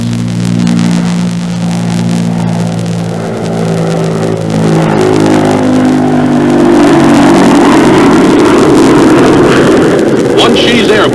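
The jet engines of a Convair B-36 Peacemaker bomber roar and build in power over several seconds during its takeoff run, a deep droning rumble swelling into a broader rushing noise, close and continuous.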